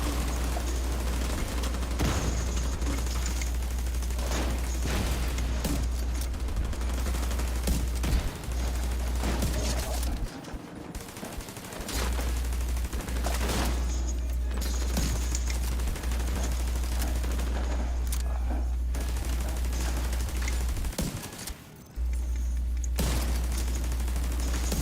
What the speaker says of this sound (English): Who is shooting those grenades?